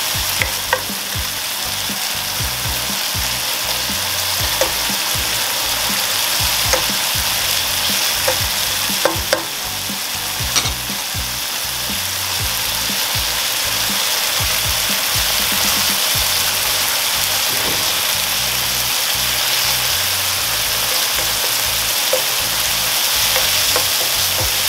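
Leftover onion scraps fry in a pan while cooking Filipino beef steak, making a loud continuous sizzle with frequent stirring clinks and scrapes close by.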